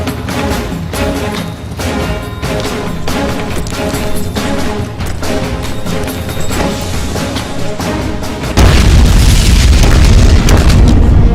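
A sudden, very loud deep boom bursts in after a stretch of dense, steady background sound, then holds as a roaring, rumbling blast.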